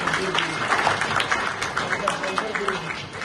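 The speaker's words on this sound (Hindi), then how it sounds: "सभी तालियों से साथ देंगे।" An audience at a Shiv Jayanti and Shivratri celebration claps together in a fairly soft, steady patter, with voices mixed in among the applause.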